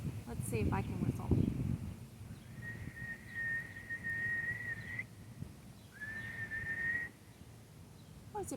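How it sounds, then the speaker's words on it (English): A storyteller whistles two long, steady, thin tones close to the microphone, each held for a couple of seconds with a short pause between. A brief rustling noise comes before them. "Let's see if I can whistle."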